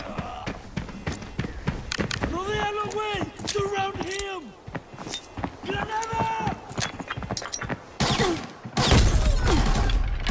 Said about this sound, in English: Did you see how perfectly he timed that grenade to explode right in front of the door?